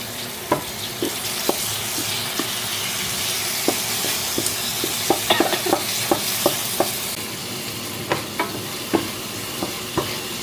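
Ground meat and brain stir-fry in a hot pan for a Cebu-style dish, with a continuous sizzle broken by repeated sharp clicks and scrapes from the spatula and no talking.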